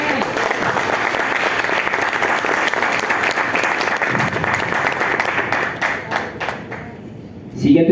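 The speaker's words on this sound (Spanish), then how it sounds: "Vamos a darle un aplauso al Señor." Members of a church congregation give a warm round of applause, a dense crowd clapping loudly for several seconds before thinning into scattered claps and dying away near the end.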